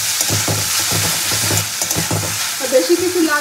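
Potato, onion and chili frying in a pan, a steady sizzle with rhythmic scraping of a spatula stirring, close and loud, ending in a brief clunk of utensils.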